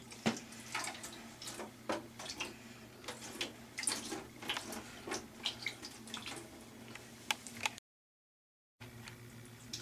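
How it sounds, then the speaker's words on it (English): Water poured as simulated rain over a polluted model ocean pours and splashes in uneven spurts, fairly quiet, with drips and gurgles, then a brief total silence before the pouring resumes. "And now the rain comes down."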